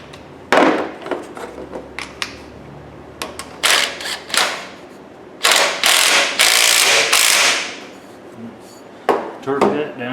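Ratchet clicking while tightening a bolt on an AC compressor of a '98 GMC truck, with several close bursts of rapid ratcheting separated by pauses.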